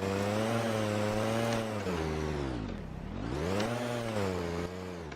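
A VAZ-1111 Oka small car engine revs hard and loud, climbing in pitch, dipping briefly near the middle, then climbing again as the car drives.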